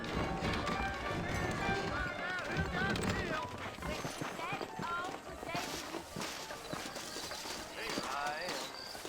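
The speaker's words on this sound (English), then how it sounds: "I got the horses saddled up and ready out front" Horse hooves clip-clopping in the video game Red Dead Redemption, a steady run of hoofbeats mixed with music and game sounds while voices talk over it throughout.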